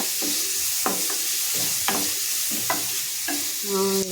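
Onions for beetroot stir-fry sizzle steadily in a hot pan while a utensil scrapes and stirs them every second or so, close and fairly loud.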